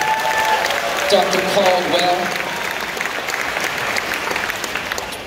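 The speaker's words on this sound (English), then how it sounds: "Round of applause if you know who he is" An audience at a vegan camp-out talk claps in a sustained burst of applause, loud and dense, while a voice briefly speaks over it near the start.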